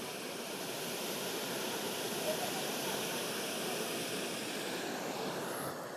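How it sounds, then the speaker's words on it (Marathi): A small waterfall pours continuously, producing a dense, even rush of white water that stays loud and unbroken throughout with no pauses. "किती सुंदर छोटासा धबधबा आहे"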